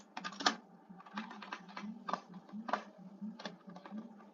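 Computer keyboard typing code, a quiet close run of uneven keystrokes with short pauses between clusters, no voice.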